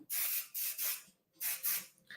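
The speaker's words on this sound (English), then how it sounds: "we're going to spray our hair" Keratin-like heat-protectant spray misted onto hair in four hissing bursts, each roughly a third of a second, with short pauses between and a fainter puff at the end, close and fairly soft.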